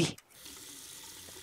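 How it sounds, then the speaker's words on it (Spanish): Hands being washed at a sink in the video game Zelter: a short burst of running tap water, then a quieter trickle and splash that fades. "Y me lava las manos."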